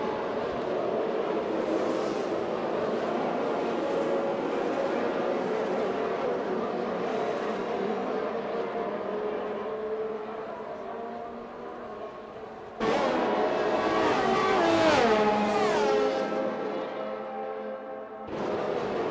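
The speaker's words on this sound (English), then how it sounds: "We're just appreciating the sound of the cars, probably." Race cars in a racing video game set at the Italian Grand Prix whine past in a steady high engine drone, then a louder car sweeps by with sharp gear-shifting revs before cutting off.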